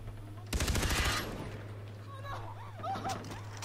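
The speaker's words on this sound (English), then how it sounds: "Where are the shots coming from?" A loud, rapid burst of gunfire rattles out in the Far Cry 3 video game, then fades. Quieter ambient sounds and bird-like chirps follow, and a voice talks alongside.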